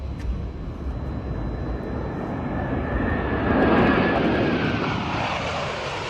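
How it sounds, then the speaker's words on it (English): U.S. Navy Blue Angels jets landing at Orlando Sanford Airport, a loud sustained jet engine roar that swells toward the middle and then eases, heard alone without talk. "the moment the U.S. Navy Blue Angels landed at the Orlando Sanford Airport"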